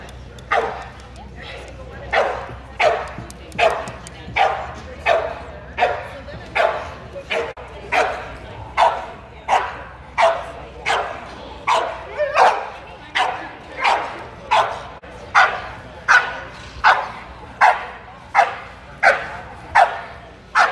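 An American Pit Bull Terrier at a breed show barks in a steady, evenly spaced series of sharp barks, more than twenty in a row, close and loud over a low background hum.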